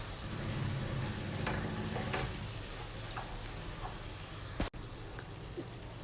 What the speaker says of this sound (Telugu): గార్లిక్ పేస్ట్ వేసిన తర్వాత ఇవి కూడా బాగా పచ్చి వాసన పోయేంత వరకు ఫ్రై చేసుకోవాలండి.